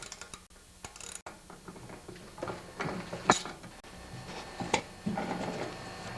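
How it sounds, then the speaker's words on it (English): A wrench removes three half-inch nuts from the auger of a Toro snowblower during a bushing repair, giving faint intermittent clicks and metallic ratcheting clatter close by with no talk. "Now I'll have to remove the 3 nuts here, and they're 1/2 inch."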